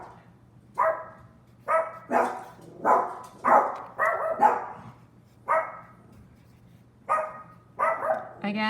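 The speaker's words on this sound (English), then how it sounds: "Sorry about my dogs." Dogs bark repeatedly indoors at moderate distance, about a dozen sharp barks in irregular bursts over a low steady hum.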